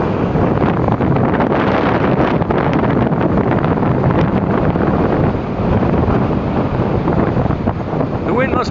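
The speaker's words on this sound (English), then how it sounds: "The wind must be doing about 70 kilometers per hour, I would say." Strong windstorm gusts batter the microphone at the Burlington lake waterfront, a loud unbroken roar of wind buffeting mixed with crashing waves, steady and close throughout.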